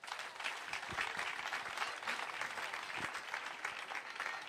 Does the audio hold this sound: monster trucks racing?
no